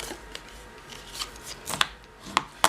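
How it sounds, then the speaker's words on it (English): Scored cardstock for a pull tab flap card being folded by hand along its score lines, heard as soft close rustles followed by a few sharp creasing snaps near the end. "let's go ahead and fold our score lines"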